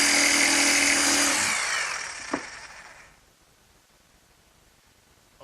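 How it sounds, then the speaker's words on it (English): Jigsaw finishing cuts in a wooden workbench, a loud buzzing saw that runs steadily, then winds down and fades to quiet, with one small knock partway through. "And now I'll just finish those cuts with my jigsaw."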